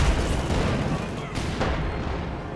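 Artillery and gunfire from a Company of Heroes 2 battle between Wehrmacht/OKW and US/Soviet forces: a heavy boom up front followed by scattered shots and rumbling, loud and continuous, with a voice talking over it.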